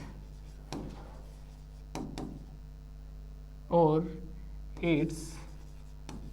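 A few short scratchy strokes of writing on a board during a real analysis lecture, close and distinct, with a voice speaking briefly between them over a low steady hum.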